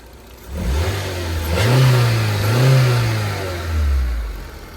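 Up close under the hood of a Daihatsu Terios, the engine hums and revs in a few swelling bursts, rising then settling back to a steady idle.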